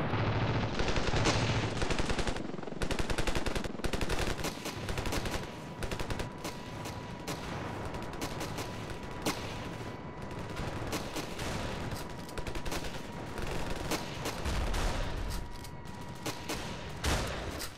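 Shotgun blasts and heavy rapid fire ring out in Ravenfield, a loud continuous barrage of close shots with brief gaps, running for the full length with no voices.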